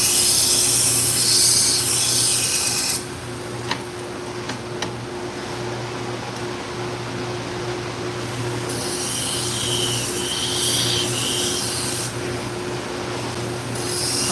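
A knife is held freehand against a powered sharpening machine, a steady grinding rasp running over the motor's constant hum, with the scraping changing in brightness as the blade shifts.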